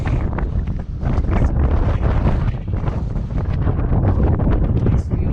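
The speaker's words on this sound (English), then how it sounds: "But it's a lot windier than expected." Strong gusty wind buffeting the microphone outdoors at the Lincoln Memorial in Washington, a loud continuous roaring rumble with shifting bursts throughout and no clear voices.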